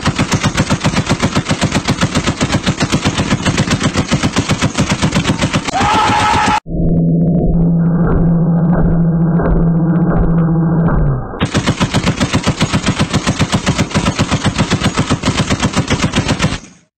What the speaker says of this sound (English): the M2 is a 50 caliber heavy machine gun originally designed toward the end of World War I by John Browning